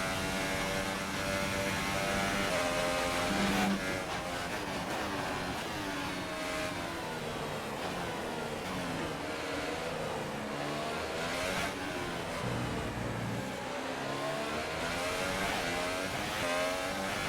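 A Formula 1 car engine from the F1 2018 racing game screams through a lap, rising and falling continuously as it shifts up and down through the gears. The roar is loud and close and plays alone, with no talking.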